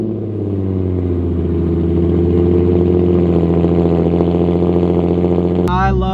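A straight-piped Nissan 350Z runs with a loud, steady, close-up exhaust drone that holds evenly for several seconds before cutting off abruptly near the end.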